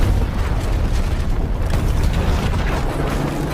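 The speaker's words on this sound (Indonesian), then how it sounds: "sebuah truk sampah mendobrak rumah Michael, disusul dengan padamnya penerangan karena Clint sengaja telah membuat gardu listriknya meledak terlebih dahulu" A garbage truck smashes into a house as an electrical substation explodes, heard as a continuous heavy booming crash and rumble, loud and close throughout with no talk.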